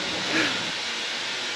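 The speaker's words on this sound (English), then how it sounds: "There's a steam train over there." Broad, steady hiss of steam from a nearby Strathspey Railway steam train at Aviemore, Scotland, loud and continuous, with a brief faint whistle-like tone early on.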